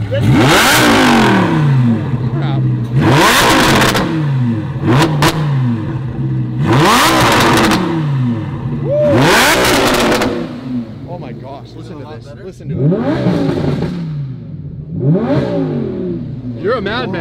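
Supercar engine revved hard again and again, close and very loud, each roaring burst climbing and dropping away with crackling pops between, while people talk nearby.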